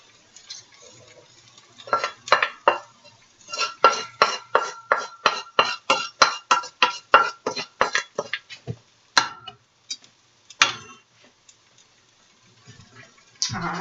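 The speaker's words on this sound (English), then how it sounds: "let me go ahead on and start putting my dishes in the sink" Dishes, pots and cutlery clatter into a kitchen sink in a quick run of sharp clinks and knocks, close and loud, thinning to a few scattered clanks toward the end.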